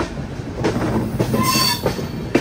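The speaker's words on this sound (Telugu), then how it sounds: "అటు సైడ్ నుంచి వస్తుంది ట్రైన్" A train rolls into Gudur Junction on the Chennai line, its steady rumble and rattling wagons close by, with a drawn-out wheel squeal rising in the middle and sharp rail clacks breaking through at intervals.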